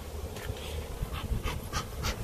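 Honey bees buzz around an opened hive on a farm, a low continuous droning hum with louder passes as individual bees fly close to the microphone, alongside soft rustling handling noises.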